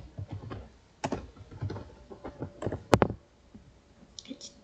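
Typing commands on a computer keyboard: scattered bursts of quiet close key clicks, some single and some in quick runs, with one sharper louder keystroke near the end and faint speech in the background.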